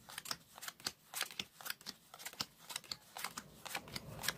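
Playing cards are shuffled in a steady run of crisp, rapid riffling snaps, close up and with no voices.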